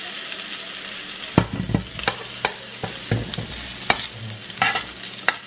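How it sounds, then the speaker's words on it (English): Onions fry in a pan with coconut cilantro sauce, a steady sizzle broken by repeated sharp clinks and scrapes of a utensil stirring, close and moderately loud with no talking. "our onions are cooking a little faster than I want"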